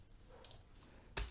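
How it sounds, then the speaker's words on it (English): A single press of the Enter key on a computer keyboard makes one short, close click in an otherwise quiet room. "on the keyboard, I'm just going to press enter."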